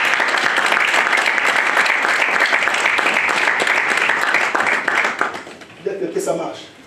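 A church congregation bursts into sustained, dense applause that fills the room for several seconds, then tapers off as a voice cuts in near the end.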